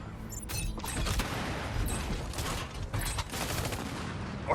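Artillery barrage in the mech strategy game Mecharashi, a rapid series of booming shots and blasts firing in quick bursts, fairly loud and dense throughout with no voices.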